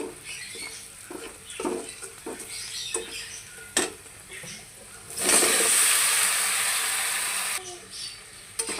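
Malabar spinach and potatoes stirred in a pan with turmeric and chilli powder, giving soft scraping pats and rustles, then a loud steady sizzle for a few seconds as the greens hit the hot oil.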